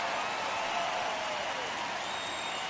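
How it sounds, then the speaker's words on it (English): A stadium crowd in LA roars in a baseball game in MLB The Show, a steady, broad wash of cheering and applause with no break, sitting fairly faint in the background. "Crowd in LA on their feet"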